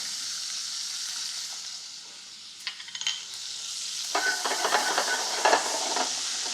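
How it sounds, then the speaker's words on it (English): Olives and oregano warming in a frying pan, giving a steady soft sizzle with light stirring and utensil scrapes toward the end, alone and close. "I'm going to add some olives to the pan. I just want to warm these up a little bit."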